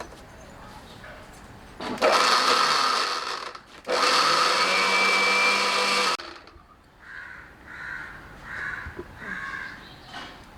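A kitchen mixer grinder blends fresh mint, ginger pieces and cardamom pods in two loud, whirring bursts of about two seconds each, separated by a short pause. Softer, fainter sounds follow.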